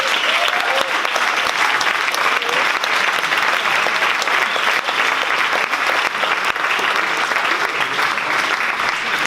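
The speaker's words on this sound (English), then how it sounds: "A warm applause for them." A large audience at a film festival award ceremony claps continuously, a dense, steady wash of applause that holds at full strength from start to end.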